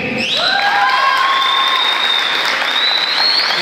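Loud crowd applause and cheering at a handball event, with rising whistles and a long sustained whistle tone over the dense clapping from a close, enthusiastic audience.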